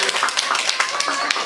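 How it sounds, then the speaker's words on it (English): Audience applause at a Nepalese community meet-and-greet in Comstock, a dense steady patter of many hands clapping close by, sustained throughout with some voices mixed in. "A round of applause for Shizabia."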